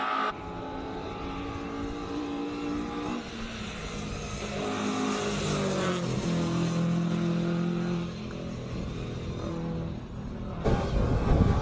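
A 2-liter Pinto-engined Ford Escort racing up a hill climb course, its engine revving hard and climbing through gears, loud and close, with shifts and a steady roar throughout.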